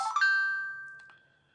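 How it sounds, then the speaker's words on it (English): A mobile phone's notification chime, a bright single ding that rings out clearly and decays smoothly over about a second in an otherwise quiet room. "that's just my phone there doing a little ding-a-ling-a-ling."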